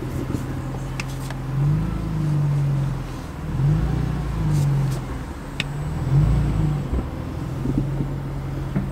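BMW M3 accelerating on a road, its engine note rising and falling in three surges, fairly close, with a steady low drone between them and no talk.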